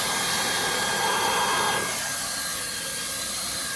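A hot air welding gun blows steadily against reinforced PVC pool liner, giving a loud continuous rushing hiss whose tone shifts slightly partway through.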